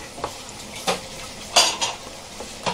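A spoon scrapes and clinks against a metal pot while mutton is stirred with homemade yogurt, giving several sharp knocks at irregular intervals over a faint background hiss.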